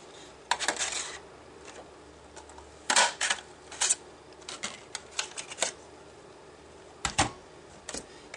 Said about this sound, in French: je vais découper mon grand cercle dans du papier vert